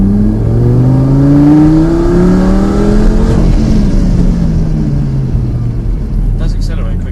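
A Lamborghini Gallardo accelerating hard on a track, its loud engine note climbing through the gears with rising harmonics, close and powerful, then settling into a rumble near the end.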